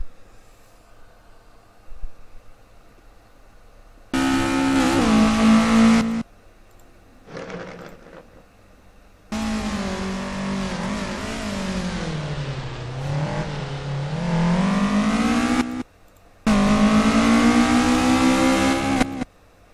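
Engine of a Lada rally car in a simulated Rallye de France stage, revving hard in loud bursts that climb and fall in pitch, separated by short quiet gaps as gears change and the throttle lifts.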